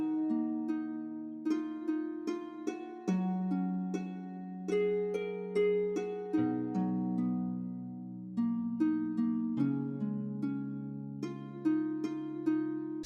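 Harp-like plucked melody from a lo-fi hip-hop beat, with notes picked in a steady, gently rolling rhythm over sustained low tones. It mimics a guitar line and plays alone at moderate loudness.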